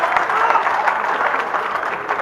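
Steady audience applause at a Hindi comic poetry gathering, a continuous wash of clapping from a crowd, fairly loud and unbroken throughout.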